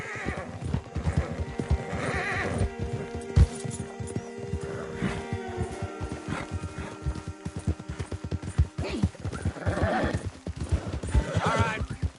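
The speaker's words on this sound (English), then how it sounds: "Don't want the horses clopping around outside the window." Horse hooves clopping steadily in a quick rhythm in Red Dead Redemption 2, with a horse neighing and whinnying loudly over the top, no talking.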